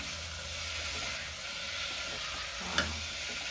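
Mushrooms fry in oil with turmeric in a pan over a medium-low flame, giving a steady, close, even sizzle that holds throughout, with one brief clink near the end.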